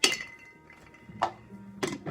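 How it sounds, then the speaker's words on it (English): Three ice cubes clink one after another into a martini glass, spaced bright taps roughly half a second apart over a quiet background hum. "I throw in just 3 ice cubes"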